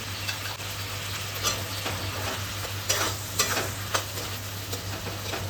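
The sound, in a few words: stirring fried potatoes into egg curry masala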